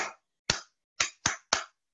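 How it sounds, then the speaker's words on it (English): Children clap in five sharp, separate claps, close and crisp, with short silent gaps between them at a slightly uneven pace. "let's clap for Kofi and Gabriel."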